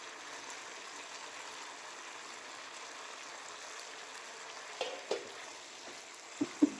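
Chicken vegetable macaroni stirred in a pan, a soft steady sizzle with a few faint scraping taps of the spoon near the end.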